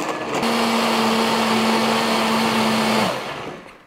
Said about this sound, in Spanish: Y luego lo traemos para la licuadora otra vez.